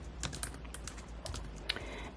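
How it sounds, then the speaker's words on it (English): Quick, irregular keystrokes tapping on a computer keyboard, close and fairly quiet, with sharper clicks scattered through a steady patter. "so I'm gonna type in unwind with me"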